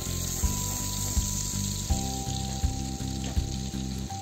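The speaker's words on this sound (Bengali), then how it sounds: "তেল হালকা গরম হয়ে এলে তার মধ্যে দিয়ে দেব 1 চামচ বাটার" A spoonful of butter sizzles steadily in lightly heated white oil in a pan, a loud, close, continuous frying hiss with a faint rhythmic pulsing underneath.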